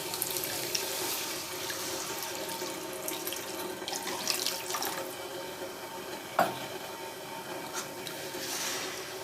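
Water runs from a kitchen tap into a cooking pan while making egg curry, a continuous close splashing gush that holds steady throughout, with no talking.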